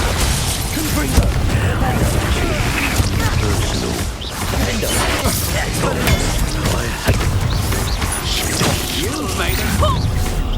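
Confringo blasting spell cast in Hogwarts Legacy, with repeated explosive blasts and crashes over a dense, loud battle soundscape that runs without pause.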